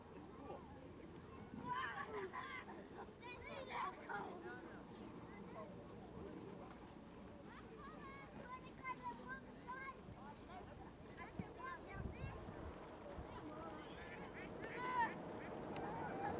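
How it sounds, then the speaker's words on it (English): Ducks call on a lake in Rotorua, New Zealand. Scattered honks and quacks sound faint and distant beneath people chatting outdoors. "Look at the ducks out there."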